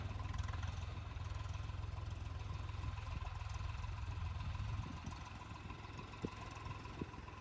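A tractor engine runs at a steady, low, rumbling idle on a rural farm track, faint and distant throughout, easing slightly quieter partway through with a couple of small knocks.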